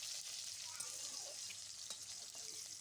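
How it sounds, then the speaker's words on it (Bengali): Chopped onion frying in oil with a bay leaf and green chilies, a constant faint hiss of sizzling with occasional light ticks of stirring, no voices. "একটা তেজপাতা, কাঁচা লঙ্কা আর দিয়ে দেব পেঁয়াজ কুচি। পেঁয়াজটা একটুখানি ভেজে নেব।"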